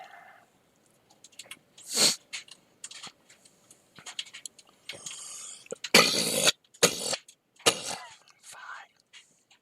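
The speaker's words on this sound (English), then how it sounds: "Terrible cough here." A person coughs in several harsh, close bursts, a couple of them loud and sharp, with quieter throat noises and small rustles between them.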